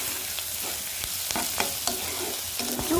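Ginger garlic paste frying in a pan with a steady hiss, broken by several soft scraping stirs of a spoon, close and alone with no voices.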